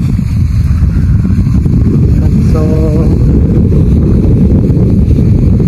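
Strong wind buffets the microphone in a loud, continuous low roar for the whole stretch, at an outdoor spot where flags are being flown, with a brief word of talk over it.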